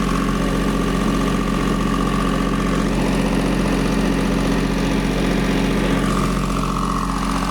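A light tower's engine idling steadily while its alternator charges the battery, a loud, even, continuous rumble with a constant low hum and no breaks.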